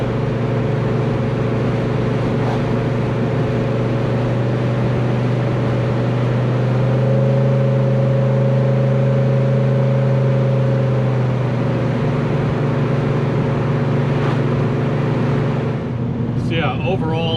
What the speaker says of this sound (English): just driving it along like this, all you hear is road noise